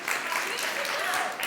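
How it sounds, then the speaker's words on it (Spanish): An audience claps steadily through a short, dense burst of applause at a worship gathering. "Le pueden aplaudir si quieren,"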